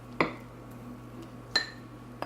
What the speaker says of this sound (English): I'm going to put this back into my ramekin here, this mixture